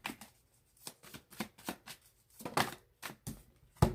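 Tarot cards being shuffled by hand, heard as a quick, irregular run of crisp riffling flicks and soft slaps, close and fairly loud, with no talking.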